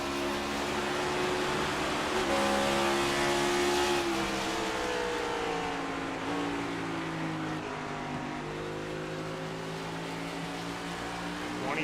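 Race cars at the Phoenix FUN League championship race, several engines droning loudly and continuously, with rising and falling revs as cars sweep past, a dense layered roar throughout.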